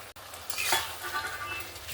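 Fried potatoes and kohlrabi are added to masala in a pan and stirred, giving a soft sizzle with scraping of a utensil and a clink near the start, close and fairly quiet.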